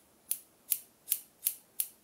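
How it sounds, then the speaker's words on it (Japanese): Close, crisp scissors snipping front bangs at a hair salon in Naha, Okinawa: five sharp cuts spaced evenly about every 0.4 seconds, with no talking. "このハサミの刃先を使ってこう線を描いていくような感じでつなぎます。"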